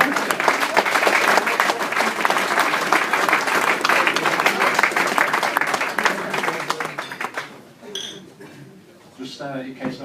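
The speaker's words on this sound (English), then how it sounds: "If you could give Warren a round of applause" Loud, dense applause for a speaker at post-match speeches following a Lancashire versus Cheshire under-17 youth rugby game in Blackburn, sustained for about seven seconds then thinning out into scattered claps and room noise.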